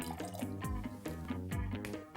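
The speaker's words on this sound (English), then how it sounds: "when you pour the colouring into vinegar" Red cabbage colouring is poured into vinegar, a soft continuous trickle with small bubbly splashes, close and faint, no talking over it.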